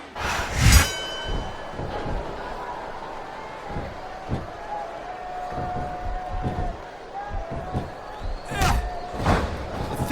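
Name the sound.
crowd cheering in WWE SmackDown vs Raw 2007 video game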